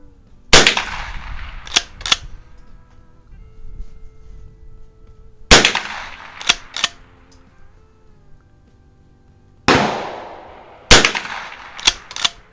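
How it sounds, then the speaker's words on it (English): Loud gunshots crack at an outdoor shooting range in three clusters of two or three rapid shots, echoing with long decays and quiet gaps between volleys. "we'll have to bear with a little gunfire in the background"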